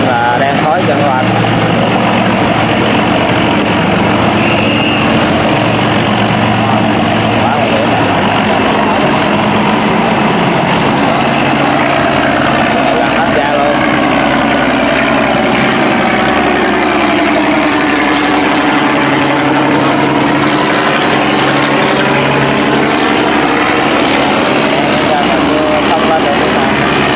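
A boat engine runs steadily and loudly as the boat climbs over waves, a continuous drone with shifting tone throughout, with voices speaking over it.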